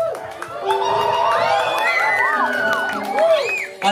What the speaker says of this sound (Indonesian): Tepuk tangan sambil teriakannya mana coba?